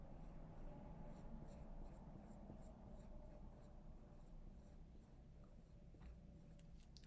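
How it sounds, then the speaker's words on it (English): A pen or pencil drawing a circle on paper produces a soft, continuous scratching and rubbing close up, faint and steady without any talk. "So here I'm going to draw a circle."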